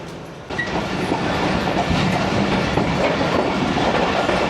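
The Karakoram Express rolls along the rails between Lahore and Khanewal, heard from on board as a loud, continuous clickety-clack and rumble that starts abruptly and stays steady throughout.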